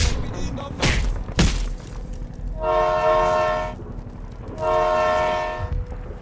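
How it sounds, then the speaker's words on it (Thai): Two long, loud blasts of a train horn from the Skibidi Thomas toilet train, each lasting about a second, following sharp clattering hits, close and dominant. "ทำให้ตัวของสกิบิดิโทมัสนั้นส่งเสียงแตรออกมา"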